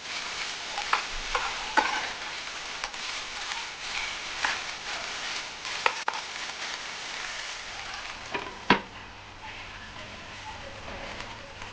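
Potatoes and spinach for aloo palak cook in a pan with a soft, steady sizzle and occasional stirring scrapes and clinks, faint and continuous throughout.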